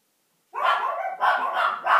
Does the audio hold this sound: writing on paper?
no